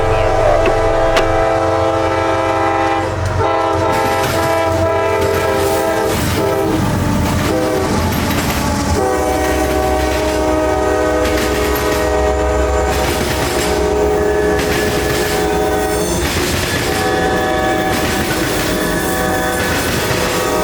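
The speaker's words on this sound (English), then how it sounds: "take this time to stake out their perfect spots for this southbound train" A southbound freight train hauling ethanol tank cars rolls past close by behind foreign power, its horn blaring in long chords over heavy wheel rumble and rhythmic clatter on the rails.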